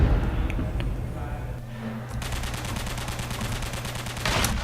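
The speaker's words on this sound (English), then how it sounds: "we're getting damaged by the bullets" Rapid bullet fire from a boss in a game under development, a dense stream of fast repeating shots over a steady hum, continuous and fairly loud with a brief electronic blip.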